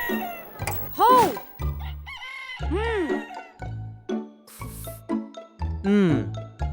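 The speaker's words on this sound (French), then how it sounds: "En pleine nuit, ce coq a disjoncté." A cartoon rooster from Minibuilders crows in the middle of the night as if malfunctioning. Several loud, rising and falling cock-a-doodle-doo calls arrive in quick bursts, broken by short pauses.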